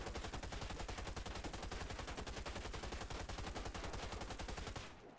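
Sustained rapid automatic fire from an A3 H-Bar rifle in a video game, a dense unbroken stream of loud shots for about five seconds that cuts off abruptly at the end.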